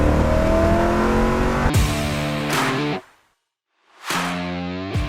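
A 1967 Corvette convertible with a 327 cubic-inch V8 of 350 horsepower revs loudly on a rolling start, the engine note climbing and dropping, cutting out briefly, then roaring back up nearby.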